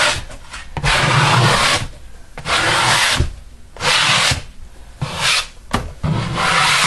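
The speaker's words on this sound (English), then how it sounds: "If you take the flat side of this scraper right into the sink." A plastic bench scraper scrapes dough off a surface in repeated bursts of coarse rasping strokes, close and loud, with short pauses between each pass.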